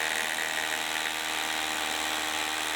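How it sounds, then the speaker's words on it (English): A cordless Ridgid Octane brushless 18V SDS-Plus rotary hammer, model R86711B, drills with a Ridgid wet dry vac hooked up for dust extraction, giving a steady, close, high-pitched whirring roar that holds without a break. "I'm hooking up a Ridgid wet dry vac to it, and I'll just show you real quick how this works."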